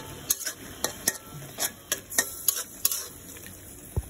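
Spinach being stir-fried with green chillies in a pan, heard as soft sizzling under a run of sharp, irregular scrapes and clinks from a utensil against the pan, fairly quiet and close, with no talking.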